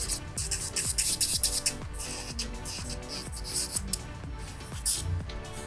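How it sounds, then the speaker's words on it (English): A nail drill with a sanding band contours the cuticle area of gel nails in short repeated passes, giving rhythmic rasping bursts over a faint motor whine. "And with the sanding band, I can easily achieve that already."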